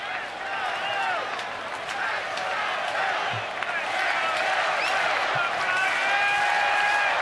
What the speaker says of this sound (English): Nice to hear the crowd getting on his side.